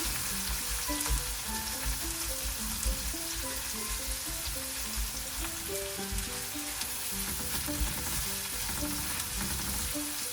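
Tofu and vegetables cook in a Tom yum sauce with lemongrass, giving a steady, even sizzle of frying with occasional stirring, heard up close with soft background music and no talking.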